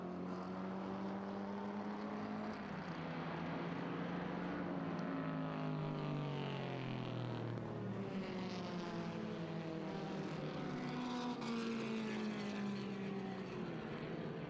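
A 1958 Lotus 11 sports racing car at a vintage feature race, its engine droning steadily with rising and falling pitch as it passes, mixed with the continuous roar of other race cars on track, no talk.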